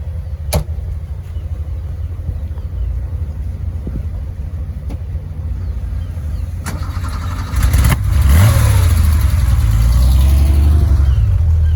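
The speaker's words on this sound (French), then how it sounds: "Là il y a Ferrari, la GTBS qui part." A Ferrari GTB at a Paris rally idles with a low rumble, then pulls away with a louder, rising engine roar near the end.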